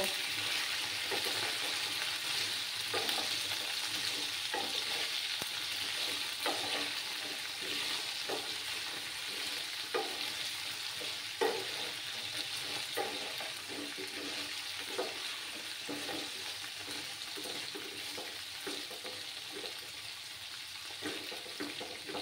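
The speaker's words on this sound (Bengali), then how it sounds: "এবার আমি ভালো করে নাড়াচাড়া করে নেব।" Cauliflower fries in a pan for a milk-based cauliflower curry and is stirred, giving a soft, even sizzle broken by repeated light scraping strokes of a spoon over about twenty seconds.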